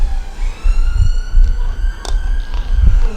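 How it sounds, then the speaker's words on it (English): A siren passes close by a cricket ground during an Under-19 India versus England one-day match. Its loud, rising and falling wail sweeps briefly across the scene with little else around it. "It's the sound of a siren going past."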